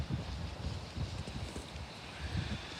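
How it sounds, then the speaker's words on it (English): Gusty wind buffets the microphone in a garden in low, uneven rumbling bursts, with a faint rustle underneath and no talking. "Ooh, windy."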